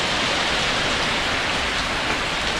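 Heavy rain pours down in a dense, unbroken hiss, loud and close, with no other sounds.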